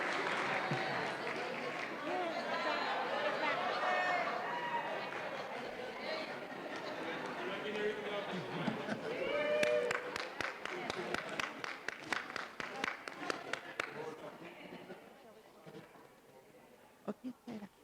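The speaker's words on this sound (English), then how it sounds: "Let's give them a round of applause." Audience at a school board meeting congratulating a middle school, clapping under crowd chatter and cheering voices, the applause thinning into separate claps before fading.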